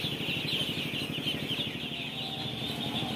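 Dense, continuous clucking and quacking of many ducks at a duck farm, a busy overlapping chorus of birds close by with no talk.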